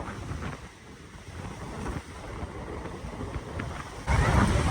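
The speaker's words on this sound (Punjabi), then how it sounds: "ਹਵਾ ਚੱਲ ਪਈ ਤੇ ਮੀਂਹ ਆ ਗਿਆ ਬਹੁਤ ਤੇਜ਼" Strong wind and heavy rain roar outdoors in a steady, rough rush buffeting the microphone, with gusts rising and falling and a sudden louder surge near the end.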